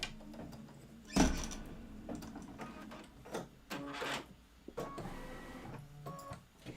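An embroidery sewing machine stitches a tack-down and quilting pass on a table topper, a busy mechanical whirring with irregular clunks and thumps as the hoop shifts, loud and close.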